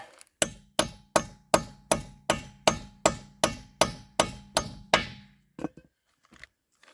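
Hammer tapping on a heavily rusted car part near a tire, about a dozen sharp metallic strikes in steady rhythm, loud and close, each ringing briefly before the next, then a few scattered lighter knocks.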